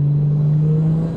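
A car engine held at a steady, loud drone with a strong low hum and a slight rise as the gas pedal is pressed halfway, close up from inside, with no talking.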